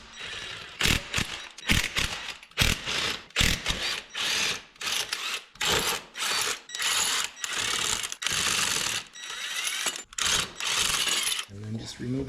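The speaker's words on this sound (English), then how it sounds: "Step is to remove the lug nuts. We're going to use a 3/4 inch socket for that." A 3/4 inch socket wrench works the lug nuts on a 1995 Honda Goldwing trike, giving repeated bursts of rapid metallic ratcheting separated by short pauses, close and loud.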